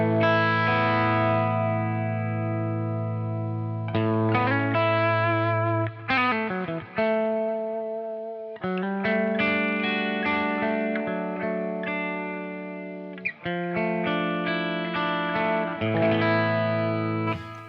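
An electric guitar runs through a Helix Marshall 2203 JCM800 amp model, playing crunchy, distorted chords and riffs in loud, sustained phrases separated by brief pauses.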